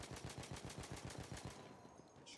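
Battlefield 1 played on PC: a burst of rapid automatic gunfire, loud and close, with evenly spaced shots for about a second and a half before it cuts off into quieter game ambience.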